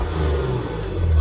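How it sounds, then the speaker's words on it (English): A Porsche Macan GTS engine growls loudly and steadily, its deep exhaust note building slightly toward the end of a brief rev. "give us a little rev time so you can get an idea of what it sounds like"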